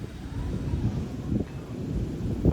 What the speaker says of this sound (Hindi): और तेज़ चल गई आंधी, देखो गाइस,